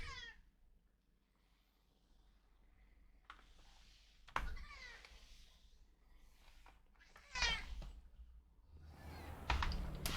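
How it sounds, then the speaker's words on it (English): A cat meows dramatically several times in Hogwarts Legacy, the cries rising and falling in separate bursts over faint background hum and a few soft clicks. "Hear my cat crying."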